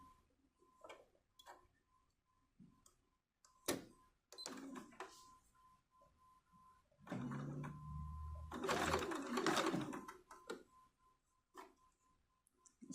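A sewing machine runs a quarter-inch seam on a small doll skirt, a quiet stretch of steady stitching after a few faint clicks and handling sounds.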